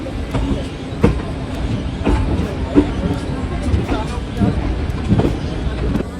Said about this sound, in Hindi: 827 किलोमीटर का डिस्टेंस कवर करके अपनी ट्रेन पहुंच चुके हैं गाजियाबाद